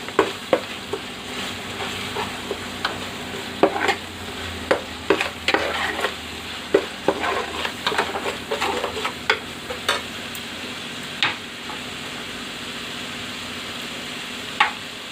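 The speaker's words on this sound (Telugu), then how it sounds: "అల్లం పేస్ట్ 1 స్పూను, పచ్చి వాసన పోయేంత వరకు వేయించుకుందాం." Ginger paste fries in oil in a pan for fish curry, a steady sizzle broken by frequent sharp scrapes and clatters of a spoon stirring, close and moderately loud with no talk.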